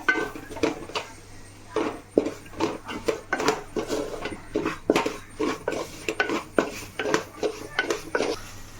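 A spoon scrapes and stirs spice powders heating in a pan for Kerala-style roasted chicken curry, with repeated rhythmic metallic scraping strokes against the pan, close and clear with no talking.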